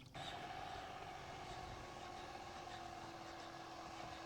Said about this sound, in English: Love the sound of two-stroke in the afternoon.